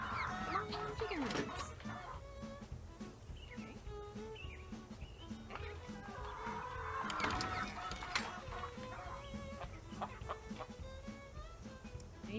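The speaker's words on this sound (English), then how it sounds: "Okay, chickens, come and get it. Come on, chickens." Chickens cluck repeatedly in the Nancy Drew: Secret of Shadow Ranch video game, with short, scattered calls over a busy background of game sound.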